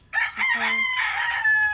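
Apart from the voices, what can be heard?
chickens, rooster crowing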